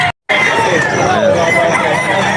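A rooster crows loudly and steadily at the Bocaue pet market, its long drawn-out call close by against a busy background of other birds and market chatter.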